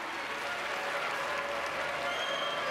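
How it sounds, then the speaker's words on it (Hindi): An audience at the Gorakhpur Mahotsav festival in Gorakhpur breaks into steady, continuous applause, heard somewhat faint and distant as a dense wash of clapping. "एक बार जोरदार तालियां मित्रों।"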